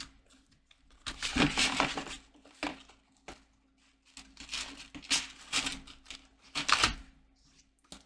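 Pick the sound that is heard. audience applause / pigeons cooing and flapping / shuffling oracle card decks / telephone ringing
shuffling oracle card decks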